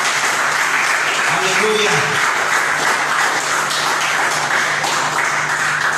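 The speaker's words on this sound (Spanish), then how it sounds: "Denle un fuerte aplauso a nuestro Señor." A church congregation applauds loudly in steady, sustained clapping, with a voice briefly calling out over the crowd and a low hum underneath.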